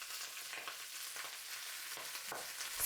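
Gai Lan stir-fries in hot oil with golden garlic and ginger, a quiet, steady sizzle marked by a few soft stirring scrapes.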